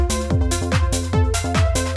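Bright, wide synth lead from the Serum Green Wide preset plays a quick rising arpeggio from F up to C, with rhythmic pulsing notes over a thick bass layer, loud and continuous, no talking.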